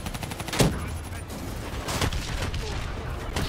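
Rapid automatic gunfire and explosions crackle through a beach assault in the Black Ops III video game, with a dense, continuous fusillade and a sharp blast near the start, while voices talk faintly underneath.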